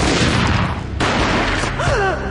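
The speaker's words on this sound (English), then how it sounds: "A gunshot boomed" Gunfire in the Max Payne Mobile video game, loud and dense, with heavy repeated shots filling the clip, a brief dip in the middle and a whining tonal sweep near the end.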